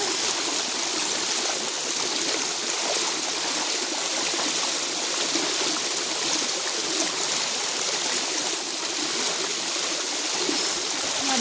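Spring water gushes steadily from a large hose outdoors, a dense, continuous rushing flow that stays loud and even throughout with no voices.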